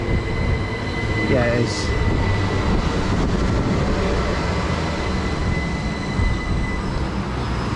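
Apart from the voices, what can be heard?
passenger train at station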